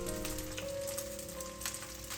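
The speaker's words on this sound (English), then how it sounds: "When the oil is hot, we can start to stir fry our rice." Rice stir-frying in hot oil in a pan for Chinese egg fried rice, a soft steady sizzle and crackle over a faint hum, quiet and continuous with no talking.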